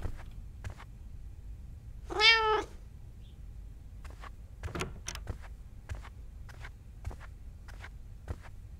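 A cat in the horror video game The Kidnap gives a single short, clear meow, with soft scattered footsteps and clicks around it in a quiet setting.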